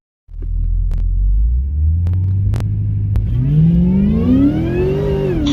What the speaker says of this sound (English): So here's a couple of clips of the car running